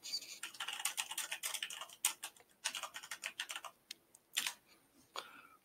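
Fingers tap out a chat message on a computer keyboard in quick, uneven runs of soft clicks with brief pauses, close and fairly quiet with no speech.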